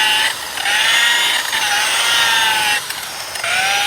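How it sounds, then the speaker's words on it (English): A power buffer polishes the headlight lens of a 2014 VW Passat after water sanding, giving a steady high whine with short dips where the pad lifts off, loud and close with no talking. "let the buffer do the work"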